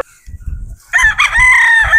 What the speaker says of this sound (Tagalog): Kung mahilig kayo sa mga gwapong manok